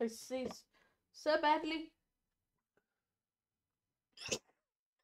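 A single short, sharp sneeze breaks a quiet pause near the end of a stretch of casual talk between people playing a randomised Pokémon HeartGold game.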